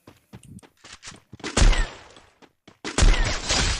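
Loud gunfire bursts in the Free Fire mobile battle game, with scattered single shots, then two dense volleys of rapid automatic fire. No one speaks.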